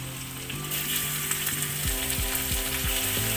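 Chicken pieces sizzle in a hot pan for a pumpkin and chicken dish, a steady frying crackle close up, with a mechanical whirring buzz that pitches up and down in the background and no voices.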